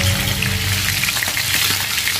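Climbing perch fish fry in hot oil, with a dense, continuous sizzle and scattered sharp crackles and pops, loud and close throughout, with no voices.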